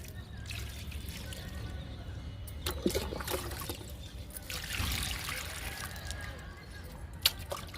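Water trickles and splashes steadily onto green grass clippings composting in a small garden, close up, with a few louder spills along the way.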